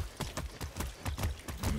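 Horse hooves clip-clop in a steady, fairly quick rhythm of about seven or eight footfalls, close and moderately loud, as a horse trots or runs in the Far Cry 6 video game.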